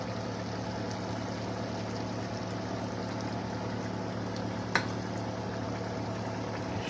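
Water with taco meat comes up to a boil in a pot, giving a steady, even bubbling and hissing simmer with one brief knock partway through.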